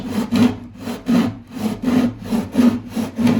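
A hand saw cuts through the edge of a wooden door, trimming a strip for threshold clearance: about eight steady, close back-and-forth strokes, each a raspy, rhythmic rasp, with no voices.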